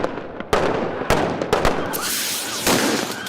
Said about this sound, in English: So startled as they were the first time the dogs heard gunfire